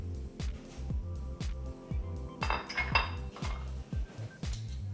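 Utensils knock and clink against a bowl as a Vietnamese prawn and grapefruit salad is tossed, a series of close, rhythmic taps and scrapes with a brief clattering flurry partway through.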